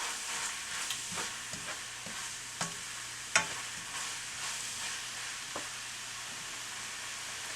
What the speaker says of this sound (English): now I'm going to just go ahead and add the beef, which is already cooked. Mix that in.